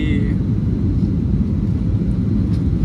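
An airplane taking off from New Delhi roars steadily and loudly, a dense, unbroken engine rumble that stays constant for the whole stretch.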